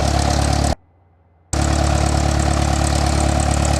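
A small aircraft's engine runs at 1000 RPM on the ground before a first solo flight, a loud steady drone that cuts out for under a second and then resumes unchanged, with no talking.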